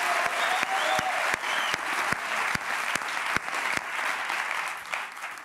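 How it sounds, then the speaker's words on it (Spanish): A TV studio audience bursts into loud, sustained applause, a continuous wash of clapping with a few sharper claps standing out. "Un aplauso para Carmen, que lo has resuelto perfectamente."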